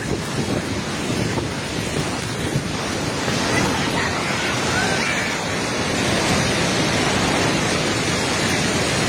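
A sudden flood torrent in Nepal rushes past as a loud, unbroken roar of churning water, dense and close, with heavy wind-like buffeting on the microphone throughout.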